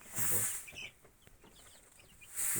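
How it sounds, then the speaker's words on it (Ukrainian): Faint high chirps of young chicks in a brooder scattered through the middle, framed by brief bursts of hissy noise at the start and end. "Дівчатка собі бігають з курчатами."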